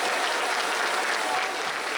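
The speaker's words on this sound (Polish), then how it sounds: "I wielkie brawa dla tej pary, szanowni państwo." Steady audience applause at a boxing gala in Kleczew, Poland, a dense continuous wash of many hands clapping for a couple, filling the short stretch without any voices on top.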